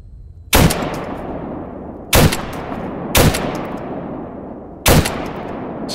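Four sharp, loud gunshots in Stalker GAMMA ring out at uneven intervals, each trailing off into a long, noisy echo under a steady ambient hiss.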